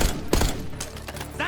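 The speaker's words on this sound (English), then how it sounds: "Under heavy fire!" Heavy gunfire and explosions from the video game Call of Duty Black Ops 6, with a dense burst of shots and impacts, loud and close, mixed with shouted combat voices.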